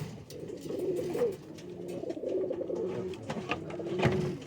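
Show pigeons coo repeatedly close by near a pigeon trap at a pigeon show, a soft rolling series of murmuring calls with faint background noise.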